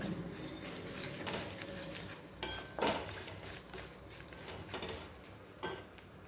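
A spatula scrapes and taps against a pan as spices with oregano and ground pepper are stirred, a quiet irregular series of clinks and scrapes over a faint sizzle.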